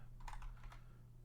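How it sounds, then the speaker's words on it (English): Fingers type briskly on a computer keyboard, a short run of quiet, close keystroke clicks over a low steady hum. "I will manually type all of this out"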